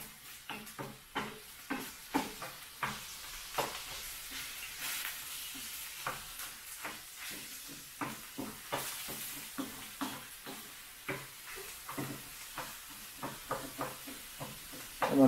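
Peppers fry in oil over high heat in a pan, giving a soft, continuous sizzle broken by a steady run of light stirring knocks and scrapes. Nobody speaks.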